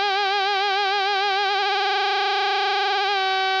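A sustained synth tone with heavy frequency modulation, its pitch wobbling quickly and widely before settling into a steadier note near the end.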